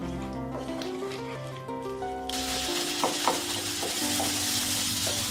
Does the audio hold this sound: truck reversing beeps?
no